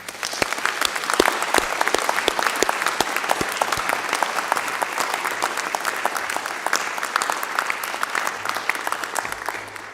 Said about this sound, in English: can I suggest we give a huge round of applause to everyone who's supported you